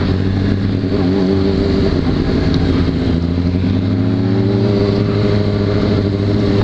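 Yamaha XJ6 motorcycle being ridden, a loud, steady engine drone with a slight change in pitch partway through, close and continuous for several seconds with no talking.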